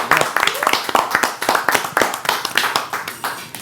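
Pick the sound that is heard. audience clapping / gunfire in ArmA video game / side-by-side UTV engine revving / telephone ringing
audience clapping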